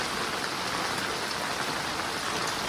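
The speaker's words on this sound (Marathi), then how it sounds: "एवढा पाऊस पडतो" Heavy monsoon rain in Konkan, Maharashtra, pours down steadily, a dense, constant hiss of drops hitting surfaces close by, with no voices.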